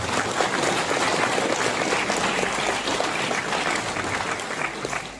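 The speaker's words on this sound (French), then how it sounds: "on peut les applaudir d'ailleurs." A seated crowd at an afternoon gathering for elderly residents in Châtillon claps warmly, a dense, even wash of applause that holds steady and tapers slightly toward the end, with no talk over it.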